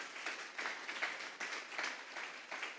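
A church congregation applauding steadily for a few seconds during a Sunday service, a dense wash of many hands clapping with slight swells, fairly distant and with no voices on top.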